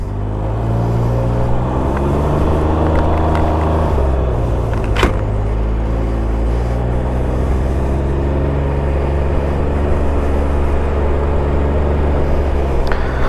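Riding a Can-Am Ryker three-wheeler produces a loud, constant engine and road rumble, with steady wind buffeting against the microphone and a brief sharp knock partway through.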